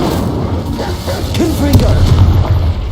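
Incendio fire spell cast in Hogwarts Legacy, a deep whooshing burst of flame under dense game noise, low rumbling and close, with a brief bright crackle midway.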